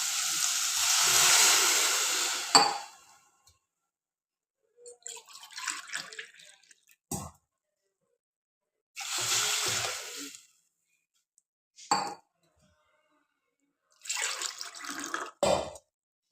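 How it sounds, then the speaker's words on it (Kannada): Water poured into a hot AMC cooking pot while making vermicelli upma, hissing and sizzling in several loud bursts of a second or two each, separated by quiet gaps. "ನೀರು ಹಾಕ್ತೀನಿ."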